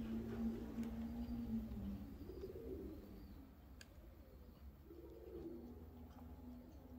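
Pigeons cooing softly in a loft, low rolling coos repeating a few times at a distance over faint background hum, no voices.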